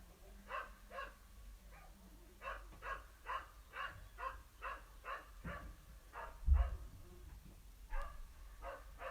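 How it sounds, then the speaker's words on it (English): A dog barks outside in front of the house during an at-home Pilates class, a faint, distant run of about fifteen evenly spaced barks. "I've got dog barking away out the front now."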